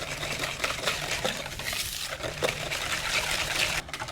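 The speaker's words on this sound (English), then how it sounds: "We need to stir this to dissolve the sugars into our liquid." A high-fat coffee ice cream base with dissolving sugar is stirred in a bowl, giving a steady wet swishing and sloshing of liquid with faint utensil scrapes throughout and no one talking.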